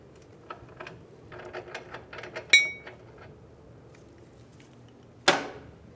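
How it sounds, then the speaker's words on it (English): An 18mm wrench clicks on the lower control arm link nut of a 2007–2015 Mazda CX-9 during a driver's-side CV axle job: a run of quiet close ratchet ticks, then two sharp metallic clanks. "We're going to back it up with an 18mm wrench."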